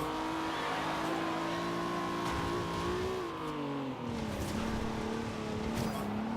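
A Toyota Supra engine in the racing game Forza Horizon 2 drones steadily at high revs, its pitch sliding down and back up through gear changes, loud and continuous with faint talk mixed in.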